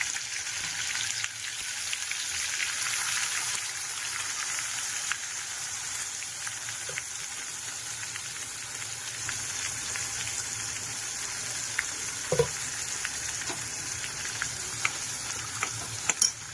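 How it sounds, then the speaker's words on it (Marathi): Masala paste sizzling and spattering steadily in hot oil for a dry fried mutton lungs dish, a dense crackling hiss throughout with a few sharper pops and stirring scrapes, close and loud. "चांगलं तेल तापलेलं आहे. आता आपण वाटण टाकून घेऊया."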